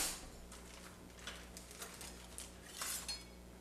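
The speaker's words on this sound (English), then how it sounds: "we'll grab a plate and a knife. And we'll cut a slice." A knife and utensils working against a plate while a slice of peppermint chocolate dessert is cut, a few faint clinks and scrapes over a quiet room hum, no talk.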